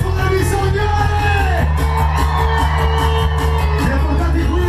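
A festival crowd at an outdoor Holi dance event in Ferrara yells and cheers over pounding live DJ music, the shouts rising in loud bursts against the steady thumping beat.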